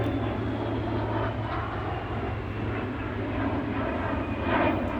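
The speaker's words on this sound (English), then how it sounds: "Jet just took off. I don't know if I captured it, but I'm sure you can hear it." A jet aircraft taking off in the distance, a steady broad roar that swells slightly toward the end, heard alone outdoors.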